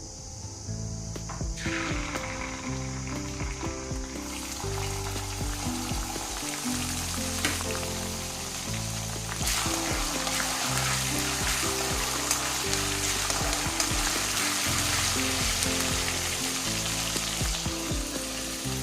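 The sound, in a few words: kasuri methi, ginger garlic paste and green chillies sizzling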